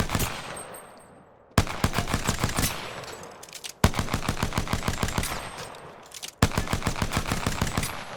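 Rapid bursts of semi-automatic pistol fire in Apex Legends, three long strings of evenly spaced shots, each burst cutting in sharply after a brief pause, loud and close with no talk.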